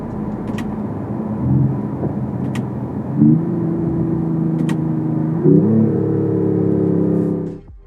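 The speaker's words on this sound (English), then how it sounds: "this is a solid powertrain that's taking advantage of the fact that inline sixes are smooth engines" A 2025 Mercedes-AMG E53 W214 with an inline-six hybrid powertrain accelerating, a smooth steady engine hum climbing in pitch through two gear changes, then fading out at the end.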